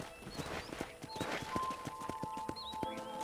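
Horse hooves clip-clopping at a walk in the Red Dead Redemption video game, a steady, fairly close rhythm of hoof strikes with faint ambient tones and brief whinny-like calls.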